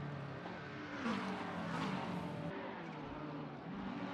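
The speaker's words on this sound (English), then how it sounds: "We're soon about to see a yellow Lamborghini cross the line." A yellow Lamborghini race car crossing the line in Gran Turismo, its engine roaring steadily and rising briefly as it passes, fairly quiet in the mix.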